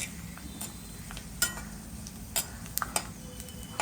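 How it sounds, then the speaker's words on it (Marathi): Raisins fry in oil in a pan over a low flame, giving a soft steady sizzle with a few light metallic clinks and scrapes from stirring. "आपले मनुके मस्त पटकन फुललेले आहेत"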